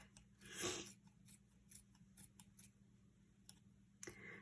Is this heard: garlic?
no